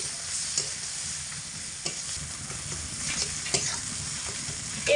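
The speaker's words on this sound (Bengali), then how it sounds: "এই সমস্ত কিছু দিয়ে ভালো করে ভাজা ভাজা করে নেব আর মশলাটা কিন্তু অবশ্যই মিডিয়াম আঁচে রেখে কষাতে হবে" Masala for a red lentil and pointed gourd dish fries on medium heat with a continuous close sizzle, punctuated every second or so by the clack of a spatula stirring and scraping the pan, and no voices.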